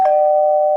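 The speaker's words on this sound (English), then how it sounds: "The doorbell." A doorbell rings in a home, one steady electronic tone held for under a second, loud and close with nothing else heard.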